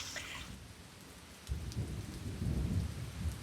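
Nighttime rain falls steadily with low rumbling thunder that swells partway through, a soft, distant storm with no voices.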